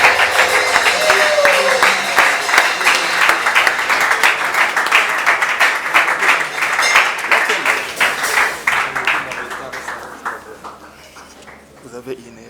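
An audience in a church applauding together, a dense and loud run of clapping that fades out toward the end, with voices mixed in.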